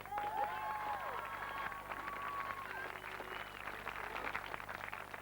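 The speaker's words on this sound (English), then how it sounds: "they deserve a big hand of applause" Crowd applause at the 1994 Lisnaskea Emmetts vs Enniskillen Gaels county final at Brewster Park, heard as a fairly faint, distant wash of clapping that runs steadily throughout, with thin whistle-like tones rising above it early on.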